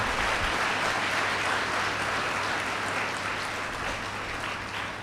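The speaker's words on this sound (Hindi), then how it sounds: "तालियां बजाइए, प्रभु को धन्यवाद दीजिए" Sustained audience applause fills an ashram talk hall, a dense, steady wash of many hands clapping at even loudness throughout, with no voices heard.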